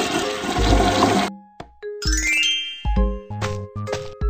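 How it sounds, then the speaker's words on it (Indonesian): A cartoon toilet flush in a BabyBus children's game sounds as a burst of rushing water followed by bright chiming dings and tinkling jingles, clear and close with no talking. "Siram toilet setelah kamu selesai."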